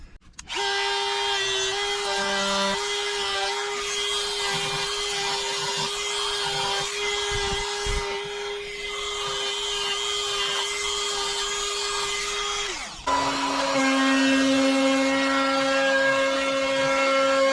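A router bit cuts a groove into a wooden guitar body, a loud steady high whine that runs unbroken for about thirteen seconds, then drops to a lower pitch as the cut changes, with no talking.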